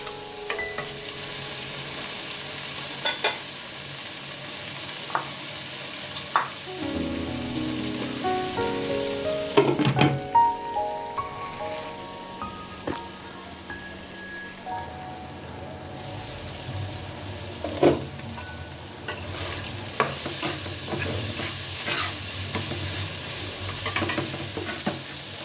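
Boiled chicken stir-fried with spices in a pan, a steady close sizzle with repeated scraping and clinking stirring strokes, some louder metallic bursts of spatula against the pan.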